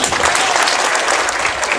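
Audience applause at a high school boys' basketball game, a dense, steady roar of many hands clapping filling the gym, loud and continuous throughout.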